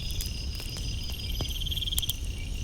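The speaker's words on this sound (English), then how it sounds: "The air between them grew still, filled only by the hum of crickets and the faint rustle of night." Crickets chirp at night in a quiet, faint scene, their high pulsing trills repeating steadily over a low, soft background hush.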